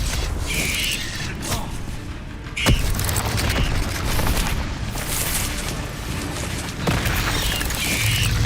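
Spell-casting blasts from Hogwarts Legacy gameplay: repeated magical bursts and booming impacts amid clanking, creaking combat effects, with a few sharper cracks standing out over a dense, continuous battle soundscape.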